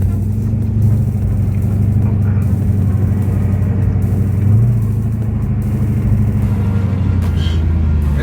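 A 2019 Dodge Charger Hellcat engine runs from inside the car, a steady deep rumble with a low, throbbing drone and no sharp climb in pitch, heard with no talking.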